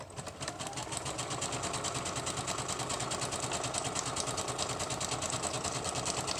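A sewing machine stitches lace onto a packing paper journal page, a fast, steady, even chatter of needle strokes running without pause from start to finish, fairly quiet and close.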